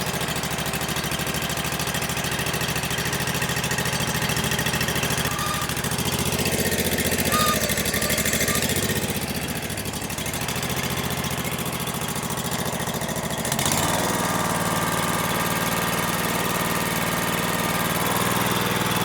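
Ditch Witch trencher engine runs loudly and continuously close by while the boom lifts the front of the machine, with a shift in engine load partway through.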